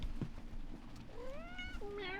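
A cat meows on a sailboat, giving a couple of short, rising and falling cries close by against a faint background hum.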